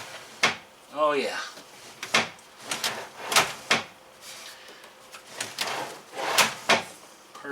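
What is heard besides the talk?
closing a drawer under a teardrop trailer's propane stove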